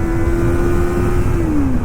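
A Kawasaki ZX-25R motorcycle's four-cylinder engine held at high revs near 10,000 RPM on a road ride. It gives a loud, close, steady whine that dips slightly at the end.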